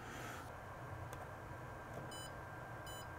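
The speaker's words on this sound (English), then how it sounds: "Then it was binding because we heard it beep." Walksnail Avatar FPV goggles give two short, bright electronic beeps while binding to the VTX of a Meteor75 Pro drone, faint and evenly spaced over a steady background hiss, with no talk.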